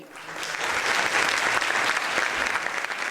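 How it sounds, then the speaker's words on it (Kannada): Audience applause at a political townhall after a speech, a dense sustained clatter of many hands clapping loudly and evenly for several seconds. "ನೀವೇನ್ರಿ ಕಮ್ಮಿ ಚಪ್ಪಾಳೆ ಹೊಡೆದು? ಜೋರಾದ ಚಪ್ಪಾಳೆ."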